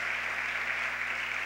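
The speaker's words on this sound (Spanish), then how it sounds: "démosle un fuerte aplauso al Señor" Church congregation applause during a Spanish-language sermon, an even, continuous patter of clapping held over a low steady hum.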